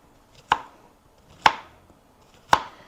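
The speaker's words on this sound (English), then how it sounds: "cutting this like so" Three evenly spaced knife chops land on a cutting board, each a crisp, close thud with a short tail, with near silence between them and no voices.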